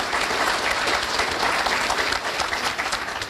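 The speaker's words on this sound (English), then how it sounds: "I think we have to give a round of applause" A crowd at a DISA ribbon-cutting ceremony in Maryland claps loudly and steadily, dense applause from many people that holds without a break and fades slightly at the end.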